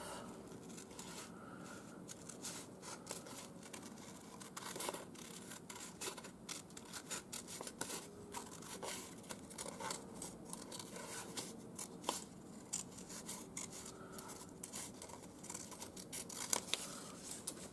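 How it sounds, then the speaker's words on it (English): Scissors cutting a white piece off lace for a collage, a quiet, close run of rapid small snips and rustling fabric that continues steadily throughout, with no talking. "Just going to cut this white bit off."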